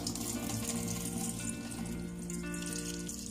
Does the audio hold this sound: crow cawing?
no